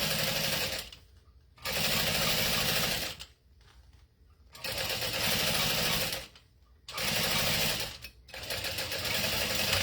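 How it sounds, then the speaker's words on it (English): A sewing machine stitches a strap on a Zip N Go bag in three long loud bursts, each a few seconds of steady whirring, separated by short pauses. "gonna backstitch just a little bit at the beginning and the end"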